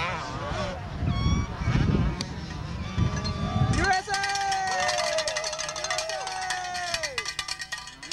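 Enduro motorcycles at the 1994 ISDE in Sand Springs, Oklahoma, buzz in the distance like angry bees, several engines revving up and down in overlapping whines under rumbling background noise and crowd voices.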